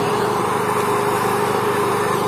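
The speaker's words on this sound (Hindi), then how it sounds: "उनके पास मशीन है काफी शोर भी कर रही है" Machine on an ice cream vendor's rickshaw at a village wedding in Attock running continuously, a loud, steady engine drone like a small motor, with no break or change.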